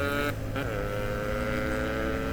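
A modified Yamaha RX135 motorcycle engine revving: a loud, buzzing two-stroke note close by, rising briefly at the start and then holding a steady, rasping pitch, with no voices over it.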